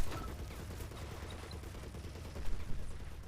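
In a Men of War battle, a KV-1 tank opens fire on a StuG, with a dense, faint rattle of gunfire that swells into louder bursts near the end.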